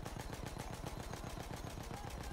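In the Battlefield 1 video game, a gun fires at an incoming plane. A rapid, evenly spaced burst of automatic shots rattles continuously for a couple of seconds, quite faint and distant-sounding.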